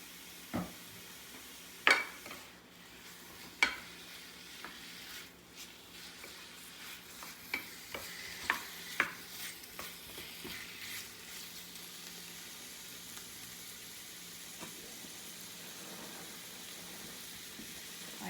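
Steak frying in oil in a pan for ram-don, a faint steady sizzle with a few sharp clinks and stirring knocks scattered throughout.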